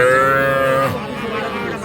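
A young heifer calf gives a close, loud moo that tapers off at a cattle market, followed by quieter background noise.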